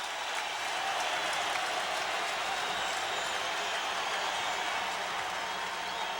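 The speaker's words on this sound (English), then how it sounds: "The crowd on its feet." Basketball arena crowd at a 1990 Sixers–Bulls playoff game, a steady loud roar of cheering and applause that holds evenly throughout, with no voices standing out.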